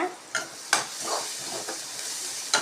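Coriander powder and other spices sizzle in a hot pan while a spoon scrapes and stirs, with a few sharp metallic clinks at intervals, while making Maggi noodles.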